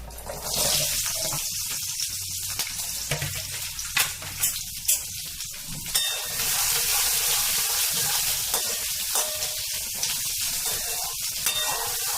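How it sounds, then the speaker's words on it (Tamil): Shallots sizzle steadily in hot oil for a traditional kathirikai kothsu side dish, a loud continuous frying hiss with occasional scrapes and clatter of stirring, no voices. "சின்ன வெங்காயம் எடுத்து வச்சுருக்கேன் அதை வதக்கிக்கணும்"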